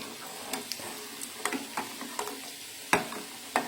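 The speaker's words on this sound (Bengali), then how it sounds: "আমি চিনি আর এলাচ দিয়ে দুধটাকে ফুটে নিচ্ছি তারপর সেমাইটা দিব" Milk with sugar and cardamom heating in a pot, sharp irregular clinks of a spoon stirring against the pot over a faint, low simmering hiss.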